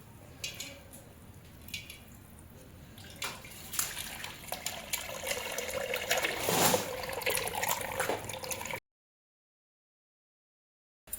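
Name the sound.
water being poured into a vessel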